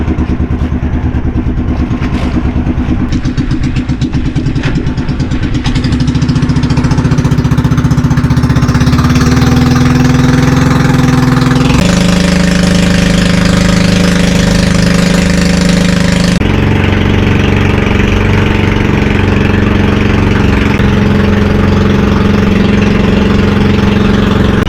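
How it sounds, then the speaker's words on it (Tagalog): The engine of a brand-new fishing boat idles loud and close at sea, a continuous low throbbing drone with shifting tone and no talk over it. "Bagong bago pa talaga ang makina namin"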